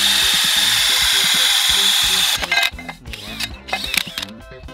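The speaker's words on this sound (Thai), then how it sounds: "ตอนนี้ผมจะลองกับโฮซอนะครับอันนี้เป็นโฮซอตัดกระเบื้องนะ" Keyang cordless drill driving a tile-cutting hole saw, a loud steady grinding whine that cuts off after a couple of seconds, followed by scattered clatter and handling noises.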